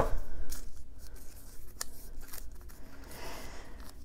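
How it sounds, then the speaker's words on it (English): Scissors snip through washi tape, then the tape is torn by hand, close-up crisp cuts and rustling tears, sparse and alone without talk. "So I just cut myself off a piece, and I'm just going to tear it in half"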